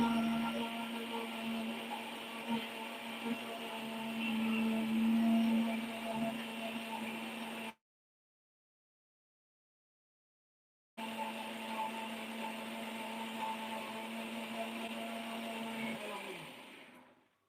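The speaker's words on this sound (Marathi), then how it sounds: "आता वहिनी मिक्सर लावताय." Kitchen mixer grinder blending raw mango for saar, a loud steady whirring hum that runs continuously, cuts out for a few seconds, then starts again and winds down at the end.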